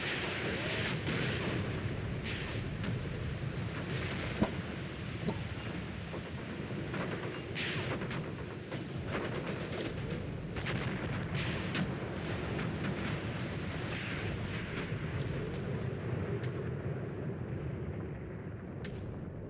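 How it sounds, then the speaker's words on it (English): Tank cannons fire in a Tunisia 1943 battle in Tank Warfare, with repeated heavy booms and sharp blasts over a constant low rumble of combat that runs throughout. "these guys have got cannons on them"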